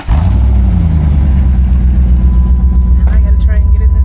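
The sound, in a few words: Jeep engine starting and running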